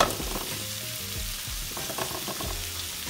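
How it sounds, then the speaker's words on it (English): Potatoes go into hot oil in a roasting pan and give a loud, steady hiss and crackle, with scattered pops and scraping sounds. The frying is close and continuous, with no talking. "So our pan is nice and hot with the oil. We're gonna carefully add our potatoes."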